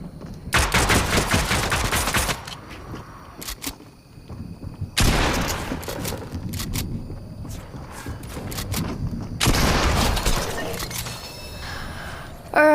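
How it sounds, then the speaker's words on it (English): Rapid gunfire from a new pistol in a shooting video game, with loud clustered volleys in three long bursts separated by quieter gaps of distant shots and game noise, no speech. "Looks like I can try out the new pistol now."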